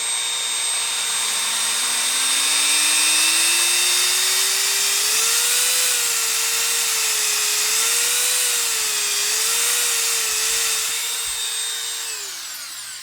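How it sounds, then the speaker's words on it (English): Two handheld rotary tools, a Dremel and a Craftsman, run together with a steady high-pitched whine, one audibly faster than the other, loud and close, with a motor tone wavering slightly before winding down near the end. "Dremel on left, Craftsman on right."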